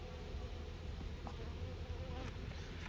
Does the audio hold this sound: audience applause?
no